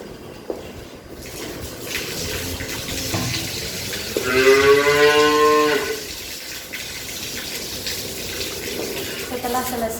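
A cow moos once, loud and drawn out, near the microphone while it is being roped at the neck for artificial insemination, with steady background noise before and after.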